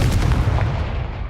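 A Confringo blasting spell bursts in the Hogwarts Legacy video game, one short heavy boom with rumbling low-end weight that fades quickly.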